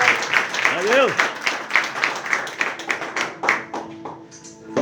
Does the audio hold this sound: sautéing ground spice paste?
no